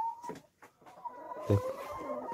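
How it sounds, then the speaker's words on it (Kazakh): A hen clucks nearby in a poultry yard, a few short clucks followed by a drawn-out, throaty call, close and fairly clear against quiet surroundings. "Мынау ең бірінші басқан тауық."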